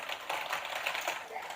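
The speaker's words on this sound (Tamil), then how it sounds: "அண்ட் கீபோர்ட் சவுண்ட்ஸ் இந்த மாதிரி இருக்குது." Fast typing on a RedGear RGB semi-mechanical gaming keyboard, a dense, steady stream of close clicking keystrokes that runs through the whole stretch with no pauses.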